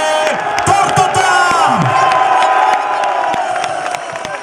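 Large stadium crowd at a Botev Plovdiv centenary celebration roaring, cheering and whooping in a sustained loud wall of sound, with scattered clapping and shouts mixed in.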